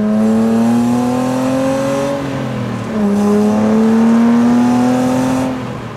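A Jannarelly Design 1 sports car driving on a road, its engine droning loud and close with a rising then falling pitch as it shifts and pulls again.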